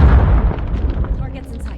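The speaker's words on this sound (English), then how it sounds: "Grenade out." A grenade goes off in a Call of Duty multiplayer match, a loud close boom with a deep rumbling tail that fades over under two seconds.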